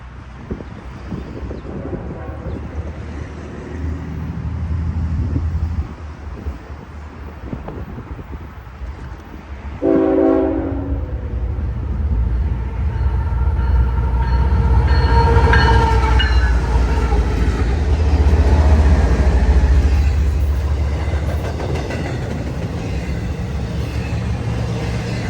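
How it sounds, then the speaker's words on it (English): A southbound intermodal freight train rolls past Clemson station, a loud, steady rumble of wheels and cars with wind buffeting the microphone and a brief tonal squeal partway through as it sweeps around the bend. "the same southbound intermodal I saw earlier glides around the bend, quickly accelerating to destination southbound"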